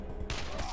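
Gunfire in the Wasteland 2 role-playing game, one sharp shot with a brief burst of noise and short tail, loud and close under faint background sound.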